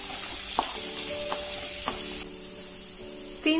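Carrots, medium potato and green beans sauté in a pan, giving a steady, close sizzle with a few scraping stirs and occasional soft knocks, and no talking.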